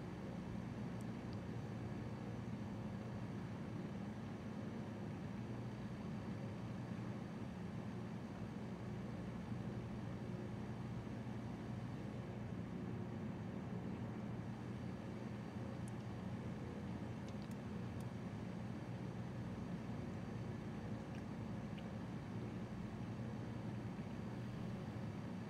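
A small airplane cruises at about 2,500 feet over the Adirondack Mountains, its engine a steady, even drone heard from inside the cabin, with no clear rise or fall and no talk.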